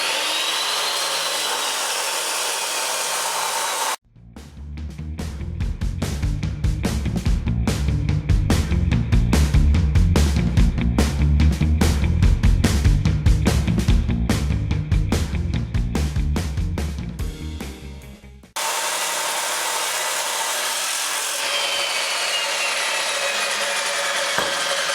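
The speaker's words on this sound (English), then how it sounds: "Making that cut, especially a long cut like this, and this is 3/16 wall box tube here" A power saw cuts a long run through 3/16-inch-wall steel box tube, a loud continuous grinding roar of about fourteen seconds that starts and stops abruptly, with quieter background noise before and after.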